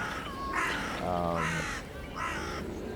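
Crows caw repeatedly in a London park, a series of loud, harsh calls in several bursts at moderate distance, with other birds in the background and no voices.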